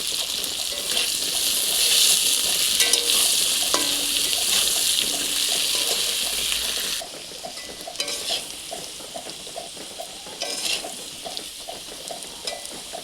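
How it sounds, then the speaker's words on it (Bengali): Potato pieces frying in oil in a pan, a steady sizzle that is loud at first and then drops to a quieter, softer crackle partway through. "আমি এই তেলে আলু ভেজে নেব।"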